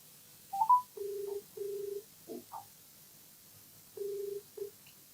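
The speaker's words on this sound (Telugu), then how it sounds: "ఒకసారి రాజేశ్వరి గారు కాల్ చేస్తానండి." A telephone dials out: a short series of steady keypad tones, some long and some brief, with gaps between them, faint and clear with no talk.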